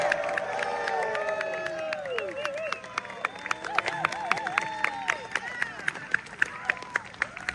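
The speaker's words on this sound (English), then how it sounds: "so that everybody can give you a round of applause" An audience breaks into cheering and whoops, then settles into steady clapping, with crowd noise and voices mixed throughout.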